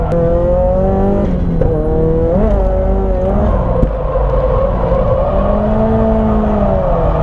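A Nissan Silvia S15 drift car at Nikko circuit holds a loud, sustained engine note from inside the car, its pitch rising and falling as the revs change through the run, with no talking.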